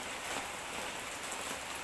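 Steady rain pattering on surfaces outdoors, a dense even hiss of drops heard from close by, fairly soft, with no voices.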